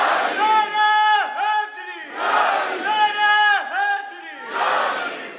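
A large crowd at a religious gathering roars a chanted response to a takbir call, loud repeated waves of voices rising and falling in rhythm, with a distinct gap between each collective shout.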